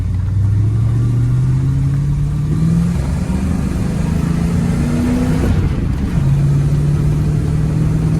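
A 1993 Ford F250 truck accelerates hard in second gear, its engine pitch climbing steadily, dropping briefly at a shift, then rising again, loud and continuous with no talk.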